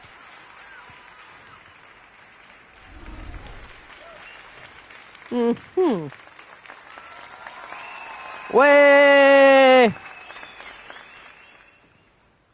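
Applause in the video game Hogwarts Legacy, a soft crowd clapping in the background while a voice speaks and cheers over it, with a brief louder burst near the end.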